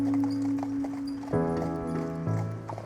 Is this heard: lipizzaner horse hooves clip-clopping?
yes